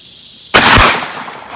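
A single loud, close blast from a 12 gauge shotgun firing a zinc .690 round ball at an outdoor range, a sharp sudden crack followed by a brief fading echo.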